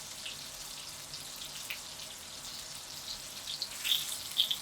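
Breaded tomato slices fry in hot oil, a soft continuous crackle and sizzle with sharper pops and spits growing toward the end, no one speaking.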